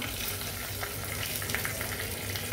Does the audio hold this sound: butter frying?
yes